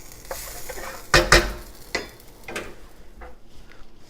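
Stir fry in a big wok crackles with a low sizzle while a utensil scrapes and clanks against the metal in a few irregular strokes, close up.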